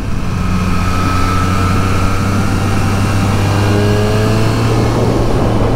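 A Triumph Street Triple 765R motorcycle engine accelerating, with a steady loud drone and rising engine tones climbing through the gears, heard up close and alone.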